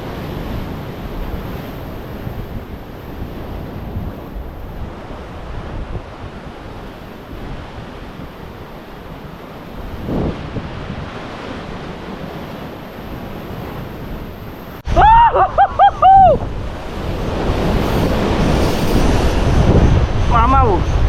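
Large, powerful ocean waves surge and crash along a rough shore, a steady roaring wash that swells louder near the end, with people speaking over it.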